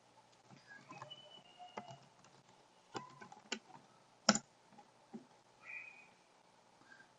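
Someone types on a computer keyboard in a quiet room, with sparse, separate key clicks and a few sharper taps spread unevenly across the stretch.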